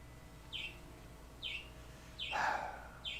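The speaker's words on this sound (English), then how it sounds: "The birds are just a little bit too much." Birds outside chirp in short, faint, evenly spaced calls, four brief bursts over a quiet background, with a slightly fuller call near the middle.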